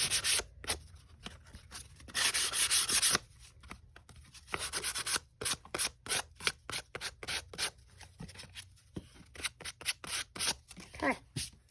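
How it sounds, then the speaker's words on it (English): A filigreed paper frame has its whole edge sanded, giving steady rasping scrapes in quick repeated strokes, close and fairly loud, with one longer continuous rub partway through. "But it works great to sand it. Just do the whole edge there."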